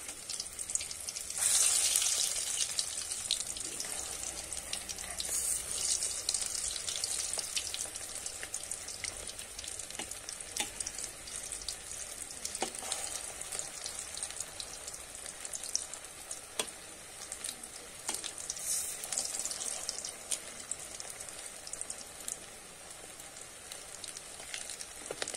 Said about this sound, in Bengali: এবারে কিন্তু আমি একটু খুন্তি দিয়ে নেড়ে দেব।